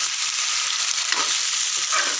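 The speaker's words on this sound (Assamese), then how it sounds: "মই আগতে পিঁয়াজ দি লওঁতেই ভালকৈ ভাজি লওঁ" Mutton and onions fry in a hot pan for a Bihari-style mutton curry, giving a bright, steady sizzle with slight stirring shifts throughout the short stretch.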